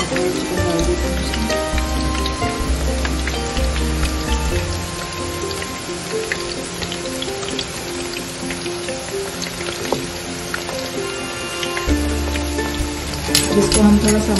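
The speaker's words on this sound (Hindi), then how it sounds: "ऑयल बिल्कुल गर्म है और ये हमारी चिकन है कितने आराम से फ्राई हो रही है" Chicken 65 pieces frying in hot oil: a dense, steady crackling sizzle like rain on a surface, continuous and close, with a few louder pops near the end.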